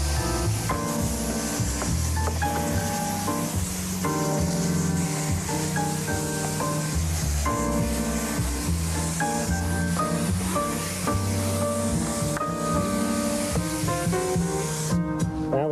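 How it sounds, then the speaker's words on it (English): A paint sprayer applies shellac to a piece of furniture, giving a steady broad hiss that runs unbroken for about fifteen seconds with no talking. "So I'm going to spray it on with the sprayer."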